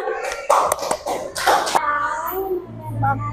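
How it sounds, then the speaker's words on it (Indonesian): In an elementary school class, a few children clap briefly for group 2, a handful of quick claps in two short bursts, followed by a voice talking. "Tepuk tangan untuk kelompok 2."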